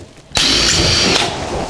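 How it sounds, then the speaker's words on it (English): A power drill bores out rivets in the aluminum ceiling panel of an Airstream trailer, a loud continuous high-pitched whine that starts abruptly, holds steady, then eases slightly in pitch and level near the end, with no talking. "as I'm drilling it, like say it was spinning on me, then I'll rock it a little bit to try to catch it"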